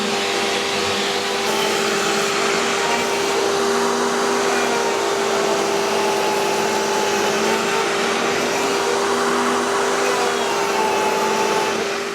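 A router sled flattening a wood slab with dust extraction rigged near the cutter, producing a loud, steady whining roar of motor and suction that holds unbroken throughout, with no voices.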